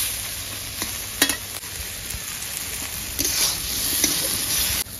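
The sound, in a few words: turmeric and red chili powder being sautéed in a pan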